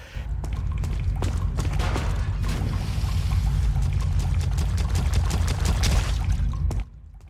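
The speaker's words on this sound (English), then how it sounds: "you suddenly hear running, and running on water, running real fast," Rapid footsteps splashing through water in Resident Evil 4, a steady dense run of wet slaps and thuds that carries on loudly for several seconds and then stops abruptly.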